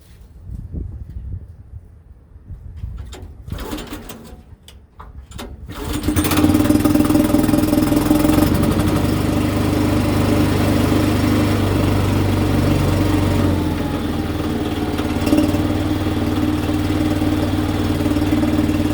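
A small wood splitter engine sputters with a few clicks, then catches and settles into a steady, loud idle that runs on without talk.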